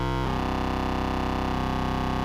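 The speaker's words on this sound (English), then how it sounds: "We're just going to set up Skorpion to make a cool waveform sound." A sine wave run through a WMD Skorpion wavefolder synth module gives a steady, buzzy, harmonically rich synth tone that shifts timbre twice as the folding changes, continuous and loud with no voices.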